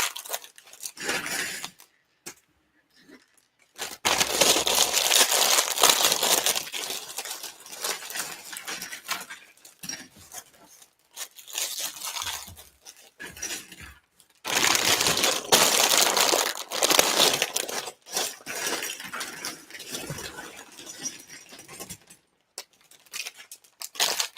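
Plastic bags of Lego pieces from set 31158 Sea Animals are tipped out, giving bursts of crinkling plastic and pattering, clattering bricks that come in uneven rushes with short quiet gaps between them.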